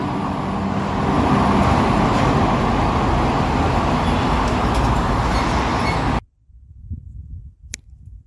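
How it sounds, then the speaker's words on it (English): Dense, steady roar of city street traffic outside a residence, with passing cars and heavier vehicles blending into a loud, continuous wash that cuts off abruptly near the end, leaving quieter ambient noise. "this is the sound of the street I live in."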